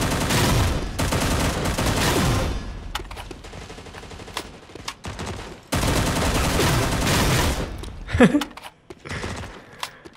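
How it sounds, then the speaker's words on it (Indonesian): Rapid bursts of assault or submachine gun fire in the mobile shooter Alpha Ace, with sustained automatic volleys broken by short pauses and scattered single shots, loud and close. "Ini ya, assault atau submachine gun gitu."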